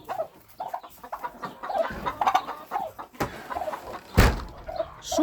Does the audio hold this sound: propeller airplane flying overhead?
no